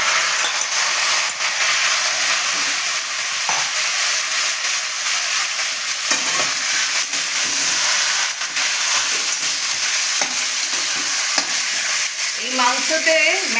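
Marinated meat stir-fried in a pan for kosha gives a loud, constant sizzle and hiss, with occasional scraping stir strokes and a few brief clatters near the end, no talk.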